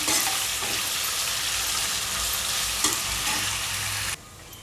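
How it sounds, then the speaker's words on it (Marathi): Chopped onion sautés in a pan, giving a loud, constant sizzle with scraping stirs throughout before the frying sound drops off sharply near the end. "कांदा व्यवस्थित असा नरम शिजू देऊया परतून घ्यायचा"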